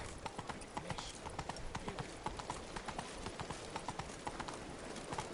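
Steady rhythmic hoofbeats of the horse Roach galloping in Witcher 3, a repeating clip-clop pattern that runs evenly through the whole stretch at moderate level, no talking.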